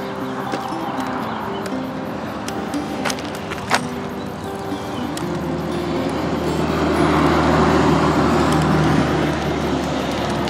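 Steady highway traffic rumble near a KOA campground in Vernal, Utah, a broad continuous roar that swells louder toward the end, with a few faint knocks and clicks nearby.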